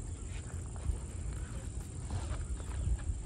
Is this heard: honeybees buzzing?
no